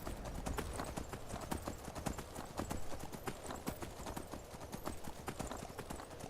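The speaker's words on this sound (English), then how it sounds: "Run, horse. Run!" Horse hooves gallop in a rapid, steady clip-clop across the whole stretch in the Skyrim video game, loud and close with no talk over it.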